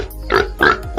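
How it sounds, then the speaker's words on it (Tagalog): A wild pig grunts two or three times in quick succession, close by on farmland, each grunt short and rough, with a faint low rumble underneath. "Baboy damo yata to ah."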